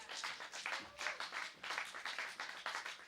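A small live-session audience applauds a band, a quiet, uneven patter of clapping that rises and dips in soft bursts.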